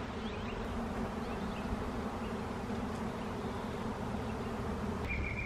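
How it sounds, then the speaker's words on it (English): A swarm of honeybees, Apis mellifera, building a temporary home outdoors, giving a steady, dense, even buzzing hum that carries on throughout with no talk. "This, behind me, is a swarm of Apis mellifera,"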